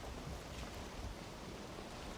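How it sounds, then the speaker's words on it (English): Rain in the video game Valheim, set along a coastline, forms a constant, even wash of broadband hiss, soft and steady with no distinct drops and no voices. "We've got some rain now, which is limiting our visibility, but that's okay."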